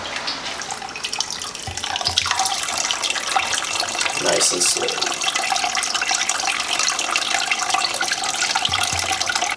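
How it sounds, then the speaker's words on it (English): Hot 170-degree water poured over a grain bag to sparge during homebrewing of a hazy NEIPA, a loud continuous splashing gush with brief louder surges, while a voice speaks briefly over it. "I'm going to have Matt pour some 170 degree water on top of the grain bag"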